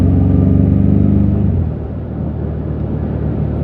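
A 2025 BMW M5 exhaust gives a loud, close, deep rumble that drops in level after about a second and a half, then settles into a lower steady burble, with no talk over it.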